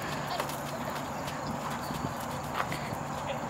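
Hooves of a mare ridden double by two riders clip-clop steadily in a continuous walking rhythm, close and fairly loud over ambient outdoor noise.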